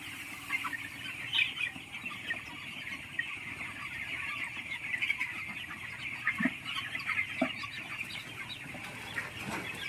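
Chickens cluck softly and intermittently in a village poultry shed, several birds at moderate distance over a steady background hum, with no talking.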